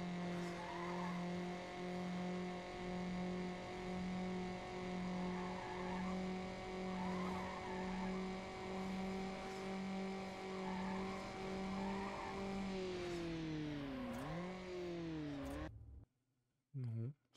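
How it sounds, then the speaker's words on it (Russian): A car skids with sustained tire squeal and a droning engine in Need for Speed Underground, loud and continuous, then the squeal bends sharply before cutting off, with a voice talking over it. "Занос."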